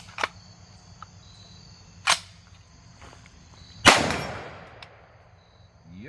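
Brownells BRN-601 retro rifle firing at a distant target outdoors: three sharp, separate reports spaced a couple of seconds apart, the last loudest with a lingering echoing tail, over a quiet background.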